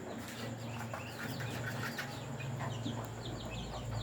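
Backyard chicks and Muscovy ducklings peeping, many quick high chirps overlapping continuously at close range over a low steady background hum.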